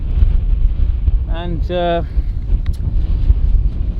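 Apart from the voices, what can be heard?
strong wind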